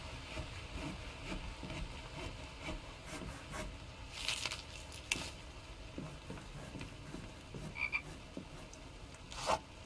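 Repeated frog croaks in the video game The Infected, a steady run of low rasping calls over a busy, noisy game background, with no talking.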